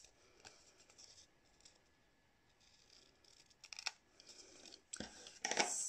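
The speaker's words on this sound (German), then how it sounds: "brauche ich noch meine Schere und schneide mir das einfach von hinten dann ab" Scissors cutting paper for a craft card, quiet crisp snips and rustles at first, then a few sharper, louder cuts toward the end, close and without talk.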